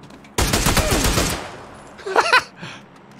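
A full-auto SLR rifle fires in the PUBG video game, a loud, rapid burst of close shots lasting about a second, followed by a short quieter burst.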